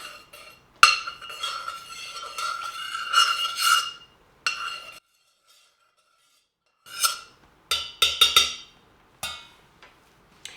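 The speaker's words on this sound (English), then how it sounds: "And then we'll just stir it together." Stirring a homemade lip balm mixture in a glass container, with bursts of close scraping and clinking of a utensil against the glass, separated by short pauses.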